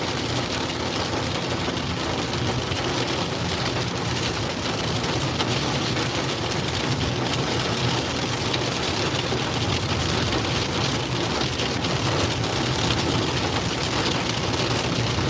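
Heavy rain pours steadily during a supercell storm near Stratford, Missouri, a dense, unbroken hiss of drops on surfaces that stays loud and even throughout, with a low rumble underneath.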